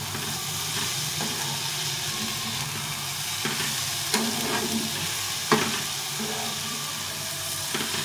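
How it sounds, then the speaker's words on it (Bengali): Momo filling with soy sauce fries in a pan, a steady close sizzle and hiss with intermittent scraping stirs and clinks throughout, no voices. "এটাকে আর একটু ভেজে নেবো"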